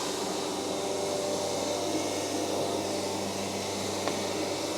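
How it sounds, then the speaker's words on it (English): A vacuum pump runs for the vacuum table of a Recontech 1312 CNC milling machine, producing a steady, even mechanical hum and hiss with a low drone throughout, close and constant, with no talk. "So now I'm going to activate the pump,"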